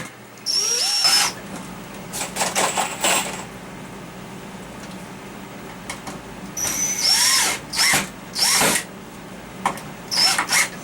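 A power drill drives deck screws into wood while a jig for a PVC pack frame is built, with several loud bursts of whirring, a long one early and then a cluster of short ones, separated by quieter handling noises.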